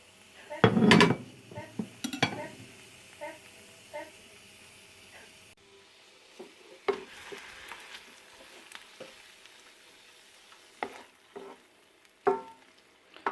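Tomatoes go into a pan to cook for a leek and cheese pie: a loud clatter of utensil against pan at the start, then scattered scrapes and taps over a faint, low sizzle, with no talking.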